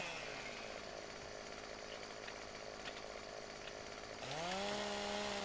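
Chainsaw cutting a tree in Farming Simulator 2015, a continuous buzzing whine under load that shifts near the end to a higher, steadier revving pitch, close and loud with no talking.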